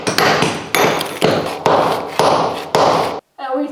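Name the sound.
hammer and chisel removing material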